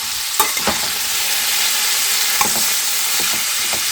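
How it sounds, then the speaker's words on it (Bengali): Carrots, beans and cauliflower frying in fresh white oil, a loud, continuous close sizzle with a few brief clinks and stirring scrapes scattered through it. "আমি মিক্সেক বানানোর জন্য সমস্ত সবজিগুলোকে নতুন সাদা তেলে ফ্রাই করে নিচ্ছি এবং দিয়েছি গাজর বিনস আর ফুলকপি"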